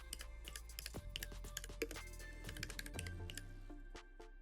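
Keys clatter in a quick uneven burst as a correction is typed into a prompt field, soft close clicks on a computer keyboard with short pauses and no talking.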